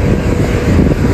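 Wind buffets the microphone outdoors on a cool October day, a loud, low, continuous rumbling roar that fills the brief moment with no talk.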